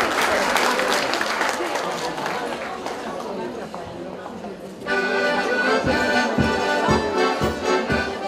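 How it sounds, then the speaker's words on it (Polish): Crowd applause greets a folk group from Żeliszowo at an Easter festival in Lubawka, a loud sustained clapping that swells after a few seconds, with chatter and an announcer's voice mixed in. "Wielkie, ogromne brawa!"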